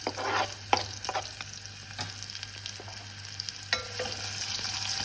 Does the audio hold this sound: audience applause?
no